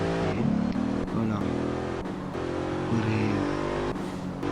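A game car in Grand mobileRP drives and revs, its engine tone climbing and dropping through several gear-like steps with brief breaks, steady and fairly close without talk.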